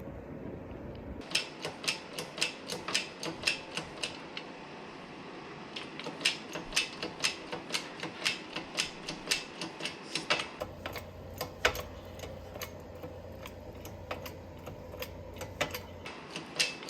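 A hydraulic shop press bearing down on an LS rocker arm trunnion to push out the needle bearings, heard as a long run of sharp, fairly rhythmic metallic clicks and ticks, close and moderately loud with no talking.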